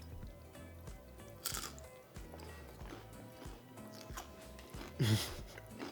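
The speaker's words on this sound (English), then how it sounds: "There's just enough breading to give it a good crunch" Crunchy breaded onion rings dipped in ranch are bitten and chewed up close, with sharp crisp crunches at a few moments between softer, wet chewing sounds.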